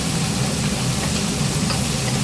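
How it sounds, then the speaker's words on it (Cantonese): Ginger slices fry in hot oil in a wok, giving a dense, steady sizzle with a low rumble beneath, close and unbroken for a couple of seconds. "將薑片爆香"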